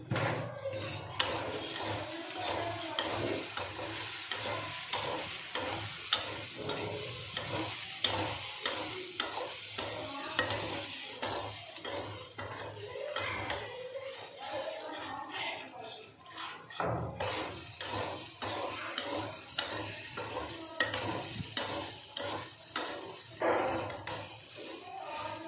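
Chickpeas stirred and fried in a pan: rhythmic scraping strokes of a spoon over a steady sizzle, repeated throughout at close range, with a short break partway through.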